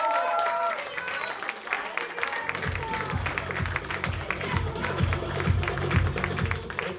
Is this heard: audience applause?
yes